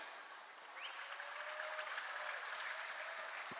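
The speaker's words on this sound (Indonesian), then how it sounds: "karena tepuk tangan udah meriah" Audience applause fills a stage debate event, a steady, dense wash of clapping that holds at an even level throughout with no speech over it.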